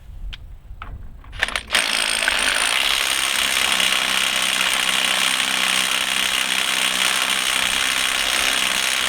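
A Ryobi P262 One+ HP 18-volt 1/2-inch cordless impact wrench hammers continuously and loudly at close range, preceded by a few brief clicks and knocks.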